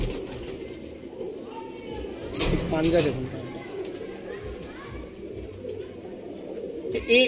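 Pigeons of a Kotashi breed coo softly in a loft, low throaty calls running under steady conversation between men, with a brief louder flutter and scuffle near the middle.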